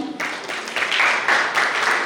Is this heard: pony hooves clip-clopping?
no